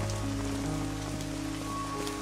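Steady rain falling on an outdoor surface, a continuous hiss at moderate level throughout with no voices, accompanied by a low sustained musical drone underneath.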